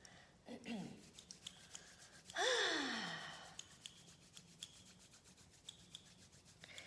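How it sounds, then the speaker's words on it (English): Palms of the hands rubbed together in one quiet, drawn-out swish lasting about a second, with a few faint softer rubs before and after in a hushed room. "when I do this rub of the palms"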